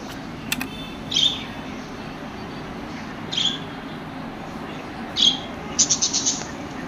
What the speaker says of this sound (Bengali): এক জোড়া ইউলু ফিশার লাভবার্ড পাখি রয়েছে